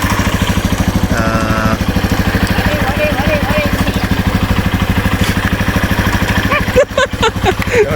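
A Yamaha TW200 motorcycle engine idles steadily close by after starting, its even low throb running the whole time while someone talks over it.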